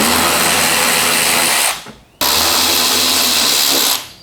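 A power drill spins out Phillips head screws from the inner fender well of a Nissan Xterra or Frontier, running in two loud, steady bursts of whirring with a short pause between them.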